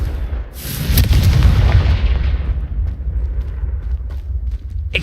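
Confringo, the explosive spell in the video game Hogwarts Legacy, goes off as a loud, deep boom that swells in the first seconds and rumbles on, fading with a lingering low roar.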